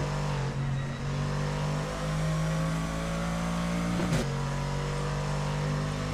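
Race cars in a GT3 racing video game, engines droning steadily at mid-distance with a sustained multi-car hum and a brief sharper pass partway through; no talking.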